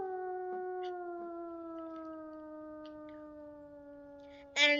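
In a vampire video game, a werewolf lets out a long, steady, clear howl that slowly falls in pitch over several seconds with faint clicks behind it, then ends in a sudden loud burst.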